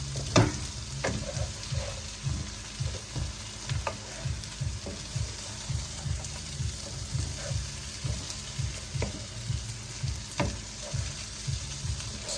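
Potatoes fry and sizzle steadily in a pan of hot oil as tomatoes are added, with a regular scrape-and-stir rhythm and a few sharp clinks running throughout, close and fairly quiet.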